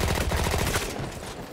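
A gun fires in rapid automatic bursts in Battlefield 1, a fast, loud rattle of shots for most of a second before trailing off into a fading echo.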